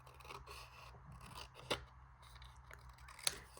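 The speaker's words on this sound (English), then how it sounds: "So let's just cut that out." Scissors snip through a sheet of 12x12 craft paper, quiet and close, with a soft rasping slide and two sharp crisp cuts standing out.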